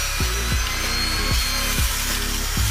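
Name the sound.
Prestige PCJ 5.0 juicer juicing cucumber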